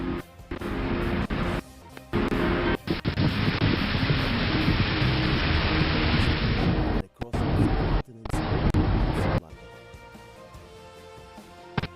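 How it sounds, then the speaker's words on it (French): Steady rain at the start of the rainy season on open savanna, a dense broadband hiss that stays loud and continuous with a few abrupt cuts, then fades into quieter ambience at the end. "Puis enfin, la saison de pluie."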